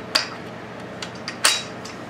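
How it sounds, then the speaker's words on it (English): Two crisp metallic clicks from a searchlight's reflective dish assembly sliding onto its spindle, with a few fainter ticks in between against a quiet background. "I have the assembly that mounts the reflective dish, and that just slips onto that spindle"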